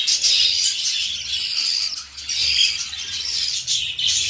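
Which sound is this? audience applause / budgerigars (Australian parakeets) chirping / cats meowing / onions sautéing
budgerigars (Australian parakeets) chirping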